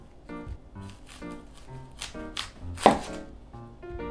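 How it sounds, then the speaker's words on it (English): A kitchen knife cuts off both ends of an onion on a chopping board for a beef bowl, making a series of crisp, close chops over soft background music. "please cut off both ends of the onion"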